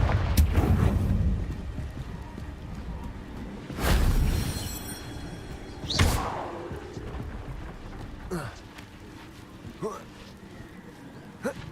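Blast spell detonations in Hogwarts Legacy, a deep explosive boom at the start followed by further bursts and whooshing impacts spaced a couple of seconds apart, fading to lighter hits.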